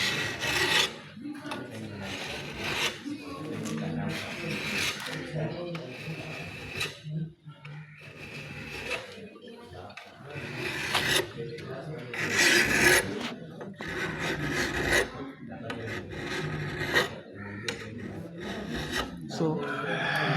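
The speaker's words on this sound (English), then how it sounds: "So I'm going to start filing." Metal hand file rasping across a workpiece in a workshop, long rhythmic strokes repeating back and forth at a close distance, with a voice speaking over some of the strokes.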